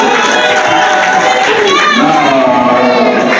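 Wedding audience at a religious marriage ceremony cheering and clapping, a dense, loud crowd roar with shouts and voices mixed throughout, steady from start to finish.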